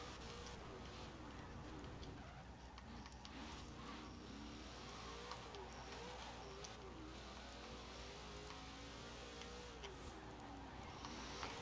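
A 2005 Hot Wheels Mustang in Forza Horizon 4 spins its wheels, with a steady engine roar and revving that holds at constant loudness throughout, while a voice talks faintly underneath.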